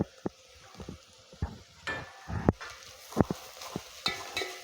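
Green chili and ginger garlic paste fry with browning onion in a pan for chicken curry, with a moderate sizzle marked by irregular knocks and scrapes of a stirring spoon, heard up close with no talking.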